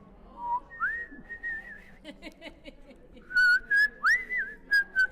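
Members of a women's community chorus whistle a melody together during a rehearsal. The clear, sliding tones come in phrases, with brief gaps and a few faint background sounds between them.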